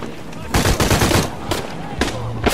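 Bursts of weapon fire in Shadow of the Tomb Raider, several loud rapid volleys separated by short gaps, close and sharp, with a voice briefly audible.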